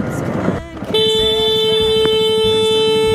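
A Honda CRF 300 motorcycle horn on an off-road rally sounds in one long, steady, loud tone after a moment of rough engine and wind noise, with a brief click partway through.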